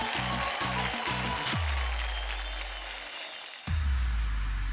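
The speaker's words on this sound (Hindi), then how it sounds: "तो जोरदार तालियां हो जाए" Audience applause for a dance performance on a TV dance show rises as a dense, steady wash, mixed with loud music hits and booming stingers.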